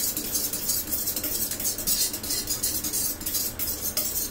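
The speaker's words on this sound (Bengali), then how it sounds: "শুধু নেড়ে চেড়ে যাবেন যতক্ষণ না শরবতটা ঠিক মতন আপনার মানে যেরকম চাচ্ছেন ওরকম হচ্ছে" A utensil stirs mango candy sherbet in a vessel, giving a continuous soft scraping and light clinking, close but fairly quiet, with no voices.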